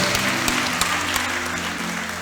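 A church congregation claps for Jesus in a loud, continuous wash of applause, with a low hum and a few sharper claps standing out.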